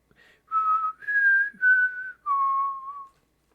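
A person whistles a short tune of four or five sustained, clear notes with brief gaps between them, close and alone against silence.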